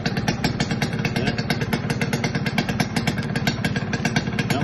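A Kawasaki Ninja 150 KIPS motorcycle engine idling close by, with a rapid, even, loud clattering pulse that carries on steadily throughout, without any voices.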